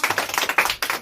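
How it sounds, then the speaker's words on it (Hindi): Children in a classroom clap together in a quick, uneven burst of sharp claps for about a second, close and fairly loud, with no talking. "अच्छा, ताली बजाइए।"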